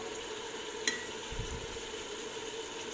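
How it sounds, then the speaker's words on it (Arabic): Tomato paste frying in a pan for a fava bean dish gives a steady, close sizzle that holds evenly throughout, with one brief sharp clink near the start and a soft low rumble partway through. "قلت نضيف ملعقه طماطم كما راكم تشاهدوا، ونخلوه يتقلى"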